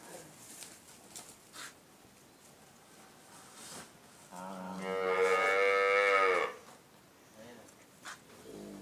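Hungry cows being brought in for milking: one long, loud moo of about two seconds rises out of a quiet barn, with faint scattered knocks and rustles before and after.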